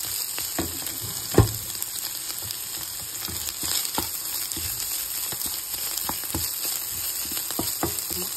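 Chicken pastil with plenty of onions crackles and sizzles steadily in a pan while a utensil stirs it, leaving scattered scraping clicks and one louder knock near the start, all close by.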